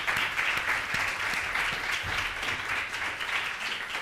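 An audience at an art talk applauding warmly, dense steady clapping filling the room without break, fairly loud and close.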